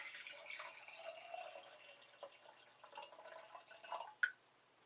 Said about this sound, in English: We're going to put the water in it.